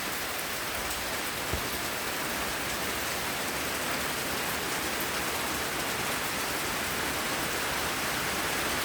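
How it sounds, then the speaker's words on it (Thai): Heavy rain pours steadily over a garden in a dense, even hiss with no breaks, alone and without voices. "โอ้ฝนตก หนัก จริง ๆ นะคะ"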